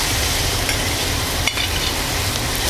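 Browned ground beef and vegetables sizzle steadily in a pan with beef fat, a dense close crackle with a single stir or scrape midway and no talking.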